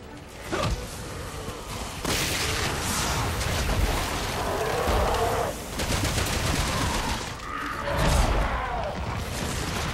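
Video game gunfire in Resident Evil 6 comes as dense, loud bursts of shots mixed with whooshes and impacts, forming a continuous chaotic combat barrage with no clear pauses.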